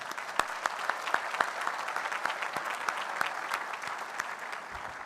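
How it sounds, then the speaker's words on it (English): Audience applause at a 2022 Cushing Academy commencement ceremony, a steady round of clapping with sharp individual claps standing out, moderately distant and sustained throughout. "Luke, a round of applause."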